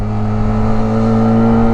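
A Benelli TRK 502 motorcycle engine drones on a race track, a close, steady hum with a constant pitch that neither rises nor falls over the short stretch.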